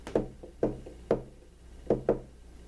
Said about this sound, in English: Yo, Jerry, do that knock again.